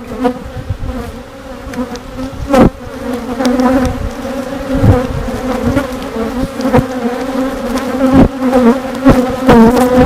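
A honeybee swarm hums in a dense, continuous drone around a trap, with individual bees zipping close past in brief louder buzzes over the steady hive-like murmur.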